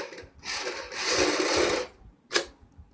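A sewing machine runs a seam on kurti fabric along a pasted paper guide. A single close burst of fast mechanical stitching lasts over a second, then stops, followed by a sharp click.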